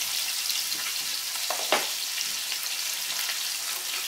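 Salmon skin searing in a hot pan until crisp, a continuous hissing sizzle with a few sharper pops and crackles partway through.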